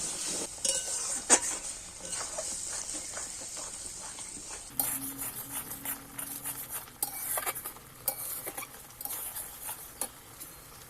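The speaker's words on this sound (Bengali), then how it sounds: "এইবার একটু ভালো করে কষিয়ে নেব" A spice masala with yogurt is stirred and sautéed in a pan, with a spoon scraping and clinking against the metal in irregular bursts over a soft sizzle, moderately close and without speech.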